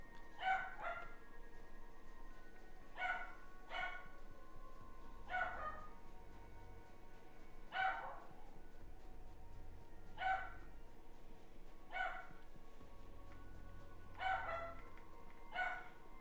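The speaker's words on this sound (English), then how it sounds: "The dog barking is cute? No, it's annoying." A dog barks in short, separate bursts, about nine over the span, spaced a couple of seconds apart, moderately loud against a low steady background rumble.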